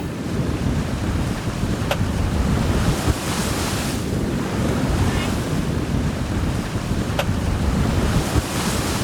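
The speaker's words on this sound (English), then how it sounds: "These southeast trade winds are so relentless." Strong wind roars and waves slap against a sailboat close-hauled into the southeast trade winds off Indonesia, a loud, steady rush of wind noise and surf with a couple of faint clicks.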